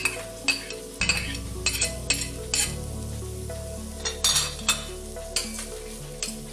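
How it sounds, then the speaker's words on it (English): Carrots, green pepper and green beans being stirred in a frying pan for Nigerian-style Indomie noodles, a steady sizzle under repeated close scraping and clinking strokes of a utensil against the pan, with a low kitchen hum throughout. "You stir it."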